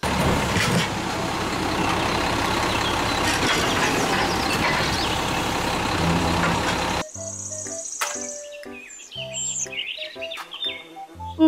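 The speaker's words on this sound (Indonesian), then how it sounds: "Mobil, truk, sampah." A toy garbage truck gives off a loud, continuous mechanical rumble for about seven seconds, which stops abruptly and is followed by scattered chirpy electronic tones.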